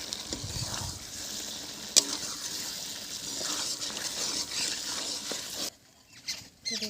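Already-fried potatoes and capsicum stirred in a pan for a vegetarian paneer dish give a steady, close sizzle with soft scraping, dropping almost silent near the end before picking up again.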